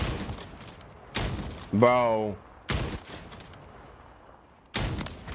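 Bursts of MP40 submachine gun fire in Warzone 3 crack out in short volleys spread over several seconds, with a player speaking briefly over the in-game audio.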